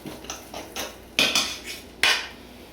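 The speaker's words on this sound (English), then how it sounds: "Now I'm gonna fluff my rice" A spoon scrapes and taps through cooked shrimp rice in a pot, giving a series of short metallic clinks and scrapes, two of them sharper and louder, with no one talking.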